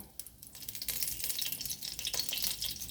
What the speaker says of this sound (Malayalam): കുറച്ച് എണ്ണ ഒഴിച്ച് കൊടുക്കാം